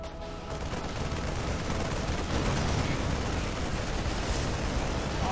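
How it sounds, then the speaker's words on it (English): StarCraft 2 siege tanks shell nonstop in a dense, rumbling barrage of overlapping blasts, loud and continuous throughout. "Tanks shelling away"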